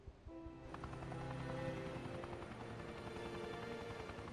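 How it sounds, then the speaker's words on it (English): Helicopter in the Resident Evil Revelations 2 video game, a steady rotor drone that swells in after a quiet start and holds at a constant level with game music and effects layered over it. "they're leaving in a chopper"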